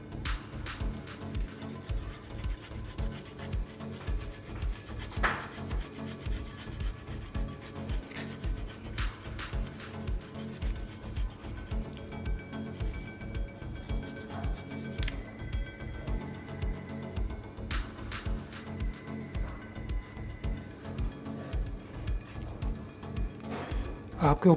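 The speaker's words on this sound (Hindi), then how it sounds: "मैं इसमें चीज़ ग्राइंड कर लेता हूँ।" Cheese is grated by hand over a potato-filled Bombay masala toast sandwich, giving a soft, steady rubbing rasp that repeats in quick strokes throughout at a low, close level.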